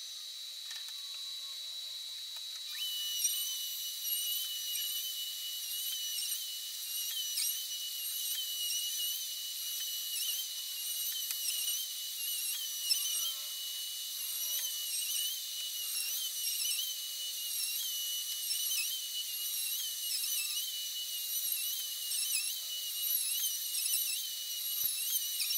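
A Festool 2200 router flattening a quarter-sawn live edge slab, giving a steady high-pitched whine that runs continuously and fairly loud after a quiet opening few seconds, with faint rhythmic ticks and variations as the bit passes across the wood.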